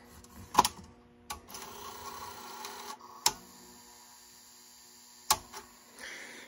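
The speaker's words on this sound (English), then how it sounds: "You should hear the drum spin up" A Sony Betamovie camcorder with a tape inserted, its head drum whirring faintly up to speed over a steady electrical hum, punctuated by several sharp mechanical clicks and clunks.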